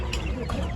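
Chickens cluck at an animal market in Sardharnagar: a short, close burst of clucking over busy market noise.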